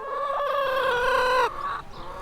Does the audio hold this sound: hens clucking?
yes